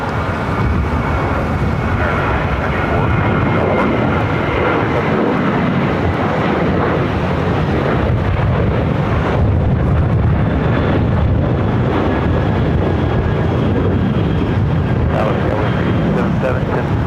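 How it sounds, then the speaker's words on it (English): An American Airlines Boeing 737-800 bound for Phoenix takes off from Los Angeles International Airport, a continuous heavy engine roar and rumble sustained for the whole span, with a voice talking intermittently over it. "Taking off, heading to Phoenix, American Airlines, flight 1994"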